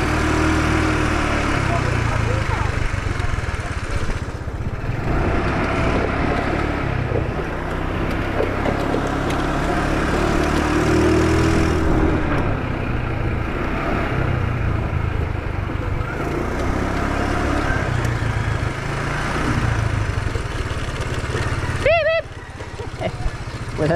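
A running engine gives a steady, fairly loud rumble that stays under people talking throughout.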